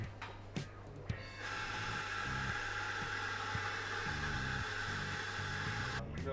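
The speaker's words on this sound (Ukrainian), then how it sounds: "Генератор. Ми його підключили до нашої зарядної станції Delta Max." A portable generator runs steadily, feeding an EcoFlow Delta Max power station in a coffee shop; a constant moderate engine hum with a few clicks and knocks near the start.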